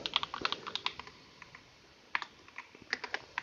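Typing on a computer keyboard while building an OS keyboard-input routine: bursts of close, crisp key clicks in uneven clusters with short pauses, alone and fairly quiet.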